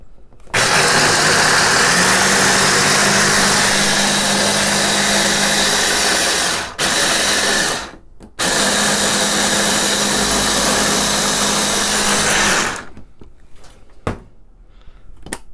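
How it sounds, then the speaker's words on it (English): White chocolate pulsed into fine crumbs in a food processor: a loud, steady motor whir with gritty rattling, running in long bursts separated by brief pauses, then stopping near the end. "So then we have our white chocolate that's been pulsed down finely"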